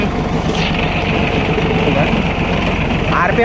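A Massey Ferguson 6028 tractor engine runs close by with a steady low rumble and throttle held up, while someone talks over it most of the time.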